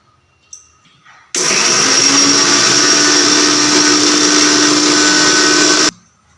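A kitchen mixer grinder whirs loudly and steadily for about four and a half seconds, grinding salt, chilli, garlic and ajwain into a paste, starting abruptly after a faint knock and stopping just as suddenly.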